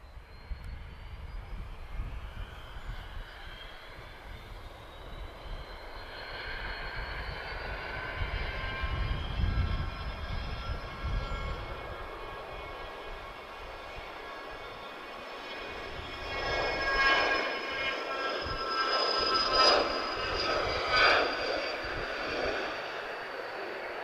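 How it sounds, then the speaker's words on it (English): A Hawker Beechcraft 400XP business jet departs Lisbon Airport. The engine roar builds steadily from a distant whine into a loud, sustained thrust with rising tonal whistling, and no talking is heard. "Hawker Beechcraft 400 XP just about to depart"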